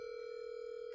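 A telephone line gives a steady, unbroken tone during dialing, a faint, even hum that lasts the full second with nothing else over it.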